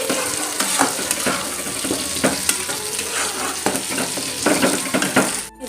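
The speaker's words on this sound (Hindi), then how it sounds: "और प्याज और लहसुन वाले जो पेस्ट डाले रहे तो फ्राई हो चुकी।" Ginger, garlic and onion paste frying and sizzling in a pan for a rohu masala fish curry, with steady crackle and repeated stirring scrapes throughout, near and moderately loud, with no talking.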